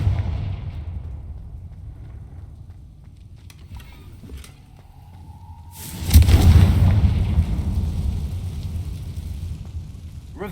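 A Confringo blasting spell detonates in the Hogwarts Legacy video game, a single loud booming burst that rises sharply and then trails off in a rumbling tail over the low game ambience.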